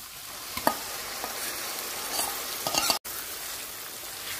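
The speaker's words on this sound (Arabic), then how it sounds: "هنزل بقى بالكبدة بتاعتي" Liver fries in a hot pan for street-cart-style liver sandwiches, giving a steady broadband sizzle with a few sharper pops and crackles, close and fairly loud throughout.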